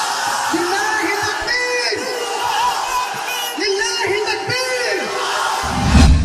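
A large crowd at a Bangla waz religious gathering shouting takbir in unison, repeated loud rising chants in quick succession with a speaker's voice in between.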